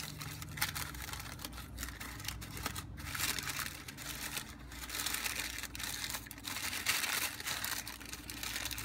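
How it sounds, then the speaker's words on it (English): Tissue paper crinkles and rustles steadily as it is shoved down into a small paper picnic basket craft, a close, continuous papery crackle with brief louder crunches and no talking. "I'm going to try to shove this tissue paper down in there so that it still kind of comes over the edges."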